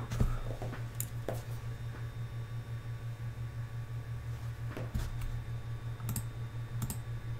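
Sporadic key clicks from a computer keyboard as a password is typed in a virtual machine, a few scattered quiet taps over a steady low hum, no talking.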